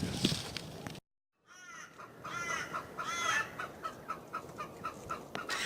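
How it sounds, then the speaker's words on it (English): A hen clucks repeatedly nearby, a run of short throaty calls after a brief silence, with some rustling. "She's one of the most humanised chickens that I have."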